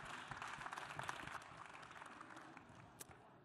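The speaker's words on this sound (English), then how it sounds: "round of applause for Salini and Ashwin" Conference audience at the SaaStr 2025 summit stage applauds two presenters, a quiet, distant wash of clapping that starts fuller and gradually fades over a few seconds.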